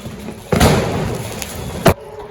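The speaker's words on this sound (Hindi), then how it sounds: "अभी हम लोग पटाखा फोड़ दिए, कान दुखने लगा है" Firecrackers burst outdoors during Diwali celebrations: one sharp, loud blast followed by a rumbling tail, then a second short crack about a second and a half later, over steady background noise.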